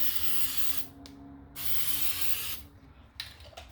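An aerosol can of Plasti Dip sprays a third coat onto a vehicle emblem in long, steady hissing bursts, about three passes with short pauses between, close and fairly loud.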